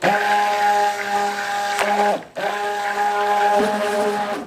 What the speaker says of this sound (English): This stick blender is wackadoodle.